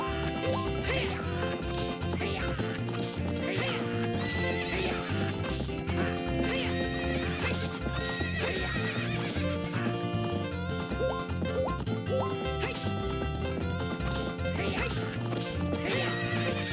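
Horse whinnies and clip-clopping hooves from a race in The Legend of Zelda: Ocarina of Time, over a dense, steady music track throughout.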